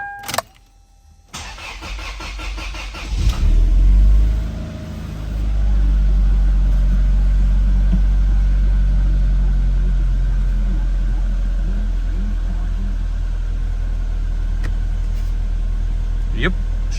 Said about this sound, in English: Yep, she starts without the clutch pedal.